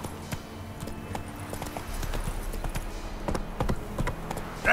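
A horse's hooves clip-clop in The Witcher 3 video game in a steady, fairly close rhythm that quickens slightly, with a faint ambient game backdrop and no talking.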